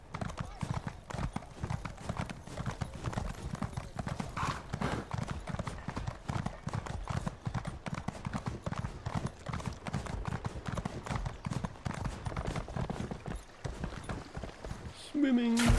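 Horse hooves clip-clop in a quick, steady rhythm for the whole stretch in The Elder Scrolls Online. A faint voice sits underneath, and a short tonal sound comes at the very end.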